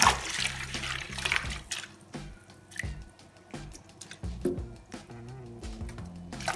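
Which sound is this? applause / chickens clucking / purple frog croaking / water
water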